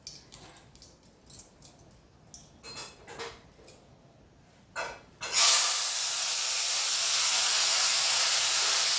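Curry leaves drop into hot oil and burst into a loud, steady sizzling hiss that holds without a break, after several short scattered clicks and rustles.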